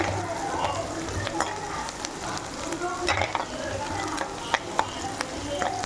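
Onions sautéing in a pan for crab gravy, a continuous frying sizzle with repeated scraping and stirring strokes of a utensil, fairly close and alone.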